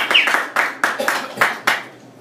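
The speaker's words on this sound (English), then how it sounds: "So a round of applause for that." A small audience claps in a few sharp, separate bursts, close and fairly loud, fading into quiet at the end.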